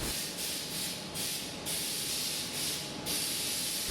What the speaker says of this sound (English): I'm going to spray 2 coats of the black,